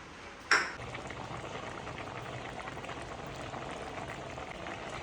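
A bottle gourd and lentil curry bubbles at a steady boil in a covered pot. After a single metallic clank near the start, it gives a continuous, soft, close simmering hiss with no voices.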